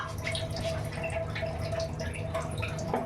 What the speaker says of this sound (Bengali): হাফ বাটি জল দিয়ে দিলাম।